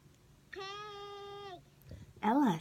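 A toy or recorded animal call sounds once, a steady harmonic bleat lasting about a second that resembles a sheep more than a pig, followed by a brief louder burst of a child's or adult's voice.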